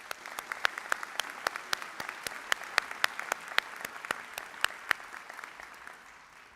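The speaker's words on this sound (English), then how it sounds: "Please join me in giving him one more round of applause" An audience at a fall 2023 commencement ceremony claps for a speaker with a sparse, distinct rhythm of individual sharp claps at moderate distance that thins out and fades toward the end.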